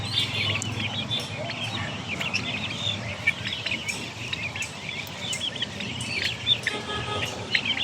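Chickens and guinea fowl clucking and calling at a busy wholesale poultry market in Dhaka, a dense, continuous mix of bird cries and crowd bustle.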